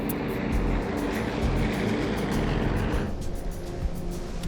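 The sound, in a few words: aircraft propeller engines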